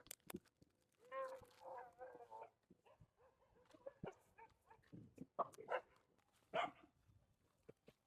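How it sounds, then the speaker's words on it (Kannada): Several dogs being fed outdoors bark, yelp and whimper in short, scattered bursts at close range, with people's voices faintly mixed in between the barks. "ನಮ್ಮ ಡಾಗ್ಸ್ ಎಲ್ಲ ಇದೆ"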